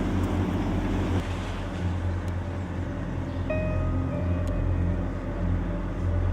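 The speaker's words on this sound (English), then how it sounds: "I watched as the cars made their way on board" Cars drive on board a ferry during an island crossing, heard as a steady, loud, low engine rumble and hum that fills the whole stretch with no pauses.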